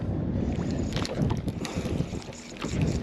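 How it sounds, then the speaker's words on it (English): Wind blows across a lake channel at Folsom in gusty, steady buffeting against the microphone, with low rumble and faint water noise nearby. "This channel here acts like a funnel for the wind. It's just blowing right at me."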